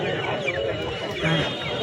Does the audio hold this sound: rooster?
yes